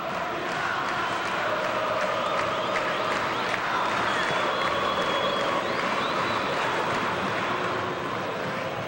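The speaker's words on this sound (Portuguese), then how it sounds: "Canta a torcida do Vasco." Vasco da Gama football fans sing and chant in a stadium during a Brasileirão 2008 match against Flamengo, a dense continuous roar of massed voices with a commentator audible over it.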